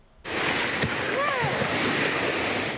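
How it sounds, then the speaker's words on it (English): Tsunami water surges noisily through coastal streets near the capital of Tonga, a broad continuous rushing wash heard close with wind buffeting the microphone and a brief voice in the background. "They record the tsunami as it surges through streets near the capital"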